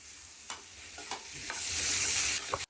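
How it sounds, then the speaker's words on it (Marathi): Onion and carrot fry in a pan, with tomatoes tipped in partway through: a steady, close hiss of frying with a few stirring scrapes and clatters, and the sizzle swells brighter near the end. No one speaks. "गाजर पण आपण फ्राय करायला टाकलेलं आहे आणि आता टाकणार आहोत टोमॅटो"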